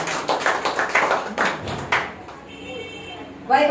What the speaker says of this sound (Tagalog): Malakas na palakpak sa ating Diyos